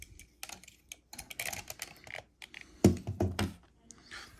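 Plastic parts of an MP-11 Starscream transforming toy figure being folded in, landing gear tucked away, giving a quick run of light clicks and taps, close and fairly quiet, with a louder snap of clacks near the end.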